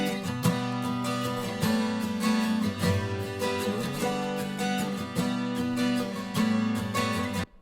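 Three layered guitar takes playing a song's chorus together, a dense, full strummed texture with a driving steady rhythm, loud and alone.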